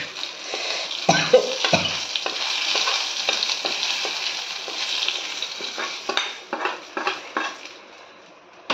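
Dried chillies and small onions tempered in hot oil sizzle steadily as they are poured over mashed amaranth greens, with a loud spitting burst near the start and a few utensil clinks and stirs toward the end.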